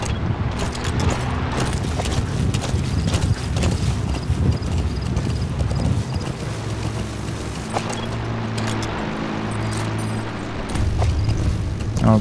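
Steady clip-clop of horse hooves plods along continuously over a busy Metal Gear Solid V: The Phantom Pain soundscape with mechanical clatter.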